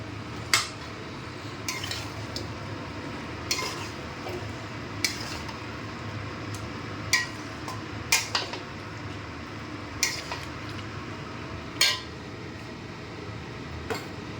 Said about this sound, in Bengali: এই বাটাটা দিয়ে এবার ভালো করে আমি এখন নাড়াতে থাকবো।